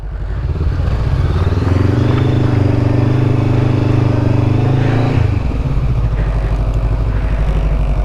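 Honda CBR500 motorcycles riding together in a small group, a loud steady engine drone with strong wind rush that eases off near the end, no talking.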